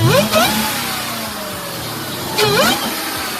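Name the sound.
car engine revving with hood open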